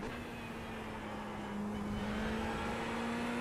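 A Ferrari GT3 race car in iRacing at the Red Bull Ring holds a steady, droning engine note that rises slowly in pitch as it accelerates. The sound stays constant and fairly quiet throughout, with no voices.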